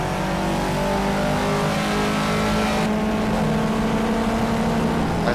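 A simulated M1 ProCar racing engine in Project CARS revs hard and loud, with a clear shift partway through as the pitch drops and climbs again, close and continuous with no talk.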